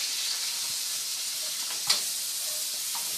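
Garlic, red pepper and curry powder sizzle steadily in hot oil in a pan for a Thai coconut chicken curry, a constant bright hiss with a brief scrape of stirring.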